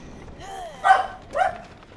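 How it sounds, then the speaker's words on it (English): Two sharp barks from a dog nearby, one after the other, over a quiet background, during a Dead by Daylight match. "I am very sorry about the barking dogs."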